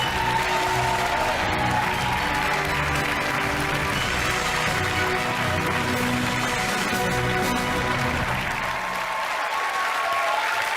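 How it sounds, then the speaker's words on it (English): A television studio audience at a lottery quiz show applauding a departing contestant, with sustained, loud, dense clapping that runs on for several seconds over faint music beneath, easing slightly near the end. "Big round of applause for Amanda"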